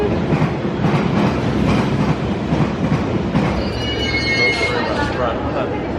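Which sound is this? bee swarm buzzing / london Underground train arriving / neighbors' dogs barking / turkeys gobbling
london Underground train arriving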